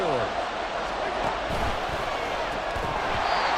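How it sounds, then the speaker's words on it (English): A stadium crowd roars in a dense, continuous wash during a tied late-game football play in an EA Sports video game, loud and sustained with an announcer's voice running over it. "Crowd on their feet."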